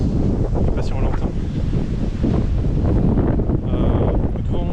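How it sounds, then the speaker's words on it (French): Strong wind from a snowstorm in Quebec City batters the microphone in a continuous, loud, rumbling roar that barely lets up. "il y a beaucoup de vent"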